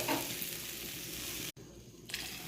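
Spices sizzle and fry steadily in a hot pan as water is poured in, a dense crackling hiss that cuts out abruptly for a moment and then resumes.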